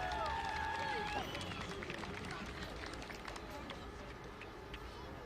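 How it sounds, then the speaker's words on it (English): A large crowd at a public rally in Vanadzor, Armenia applauds outdoors, a dense, distant wash of clapping mixed with crowd murmur that holds steady for several seconds and slowly eases. "Let us applaud to them as well."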